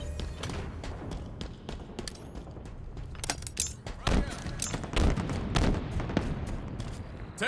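Rapid gunfire in Halo Infinite multiplayer: a close, loud stream of shots and sharp impacts with a few heavier booms, mixed with game voices calling out.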